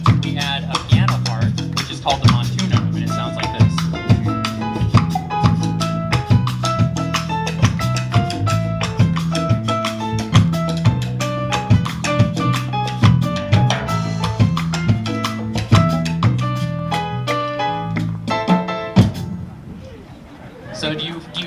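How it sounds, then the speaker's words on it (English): A salsa groove where a piano plays a repeating syncopated montuno figure over bass and percussion, played loudly and steadily for most of the stretch before the ensemble cuts off near the end. "we add a piano part, which is called the montuno, and it sounds like this."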